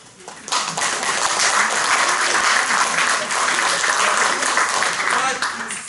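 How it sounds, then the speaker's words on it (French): Loud, dense applause from a theatre audience, rising sharply after a brief quiet start and holding steady as a full-room wash of clapping. "Moi, tout seul, je vous applaudis."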